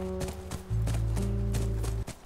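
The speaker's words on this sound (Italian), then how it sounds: "Quello è il nostro cavallo" Horse hooves clip-clop in the video game The Last of Us, a steady run of soft hoof beats over a sustained low game music drone, with no talking.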